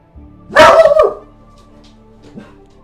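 A dog barks loudly and close by, one sharp burst of a couple of quick barks, then goes quiet apart from a faint short whimper or yip near the end, in a room with no talk.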